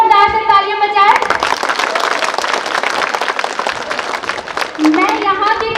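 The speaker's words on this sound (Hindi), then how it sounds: "आप सब लोग के लिए बच्चों जोरदार से तालियां बजाएं।" Loud applause from a crowd of children at a school progress report event, a dense sustained clapping burst between stretches of amplified speech.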